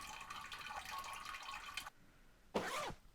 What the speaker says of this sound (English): And we might drink some water.